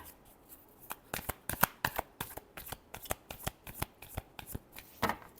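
Tarot cards are shuffled by hand in quick irregular riffles and slaps, crisp and close, with brief gaps between bursts and no talking.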